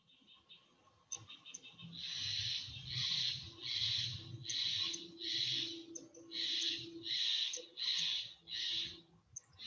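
A Steller's jay calls outside: a long series of harsh, raspy squawks repeats in a steady rhythm, heard somewhat muffled from indoors over a low room hum and faint movement.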